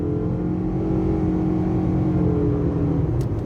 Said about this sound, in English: I'm gonna put it into drive sport and give it acceleration